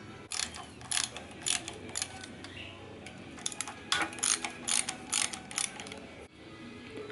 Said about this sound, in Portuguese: Eu vou dar uma aliviada na pressão de todas as porcas dos prisioneiros que ficam aqui na